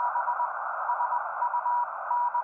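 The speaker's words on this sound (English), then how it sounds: "I've never seen anyone do like Morse code." Morse code radio signal from an amateur radio contact between Canada and Japan, a steady high tone keyed on and off in rapid dots and dashes over a constant band of static hiss, with no talk.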